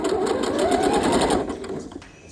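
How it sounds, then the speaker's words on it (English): A sewing machine back stitches and then runs up the side seam of a denim dress, a close, loud, continuous motor whir that fades as the stitching slows at the end. "I'm gonna back stitch. And then I'm gonna go all the way up that side seam to the top"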